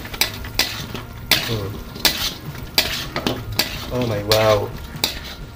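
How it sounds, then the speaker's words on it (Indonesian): Gemblong dough being stirred in a hot pan during caramelising, with repeated scraping and clinking of a utensil against metal over a low sizzle, while a voice briefly exclaims. "sekarang kita masukkan aja ini si gemblongnya dan kita aduk sampai merata ya"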